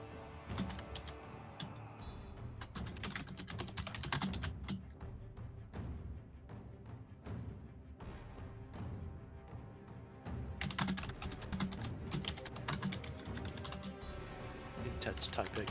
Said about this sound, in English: Intense typing.